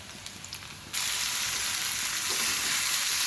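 Onion and garlic fry in a pan with a steady, close sizzle that gets louder and broader after a soft start and continues evenly with no talk.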